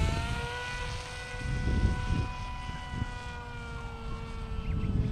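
Modified Bixler 2 RC plane driven by an NTM motor with a 7x4 propeller, a steady high electric whine with faint gusty wind noise beneath, holding a near-constant loud level throughout.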